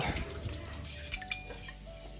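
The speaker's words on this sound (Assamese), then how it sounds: "এইটো হ'ল ৰাতিপুৱাই বনোৱা বাচন তেতিয়া ধোৱা নাছিলে তো এতিয়াই ধুব" Pots left from morning cooking are washed by hand at a village kitchen, with close clatter of metal vessels and splashing water in short irregular bursts.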